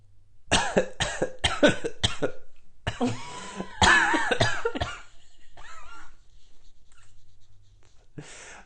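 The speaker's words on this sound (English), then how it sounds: "All of a sudden I had to cough." A burst of several sharp coughs close up, followed by more coughing and throat clearing, then quiet breathing.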